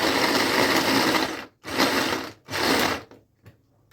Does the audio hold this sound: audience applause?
no